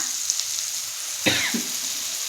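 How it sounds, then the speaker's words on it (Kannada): Tomatoes frying in a pan for a soya bean curry, giving an even, moderate hiss throughout, briefly interrupted by a short cough-like sound near the middle. "ಟೊಮೊಟೊನು ಫ್ರೈ ಆಗಿದೆ"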